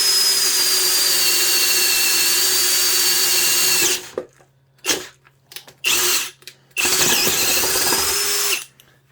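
A DCK cordless drill bores with a SteeleX jumbo brad point bit, a loud whining motor held steady for about four seconds, then cut into a few short bursts separated by quiet pauses.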